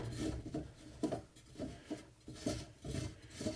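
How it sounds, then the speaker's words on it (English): Bolt being unscrewed on a GMC motorhome black tank, a quiet close rhythmic scraping and rubbing repeated in short strokes, with no talking. "Yeah, this is unscrewing very nicely."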